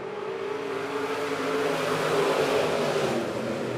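USRA B Modified race cars at a dirt speedway roar off a green flag restart, a loud blended engine drone swelling as the field accelerates.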